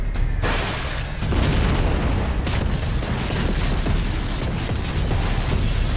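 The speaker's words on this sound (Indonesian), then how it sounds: "Bom-bom itu pun mengakibatkan ledakan yang cukup dahsyat" Heavy bombs explode in an Attack on Titan anime battle scene, a dense continuous roar of blasts and rumbling debris that stays loud throughout with no pauses.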